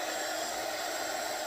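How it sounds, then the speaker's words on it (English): A heat gun blows hot air to dry paint on a hat, giving a steady, close, unbroken rush of airy noise with no talking. "this is a heat gun. This is not a blow dryer."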